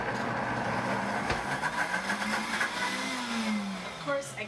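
A countertop blender grinds garbanzo beans in a continuous loud whirring drone that shifts in pitch as the load moves, with a faint thump partway through.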